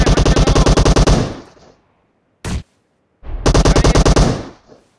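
Automatic rifle fire in a PUBG/BGMI match on the Sanhok map, a loud, close rapid burst, a brief single shot, then another sustained burst, each ending in a fading echo.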